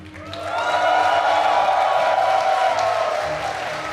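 A large esports crowd at The Garrison tournament roars with cheers and applause, swelling quickly and holding loud and steady for several seconds before easing slightly.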